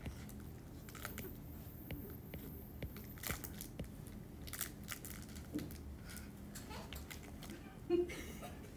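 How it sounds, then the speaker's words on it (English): A food wrapper crackles and crinkles in scattered bursts while someone eats, faint and close, with soft chewing and crunching amid a quiet room. "That way we don't have to like listen to the crackling every 5 seconds."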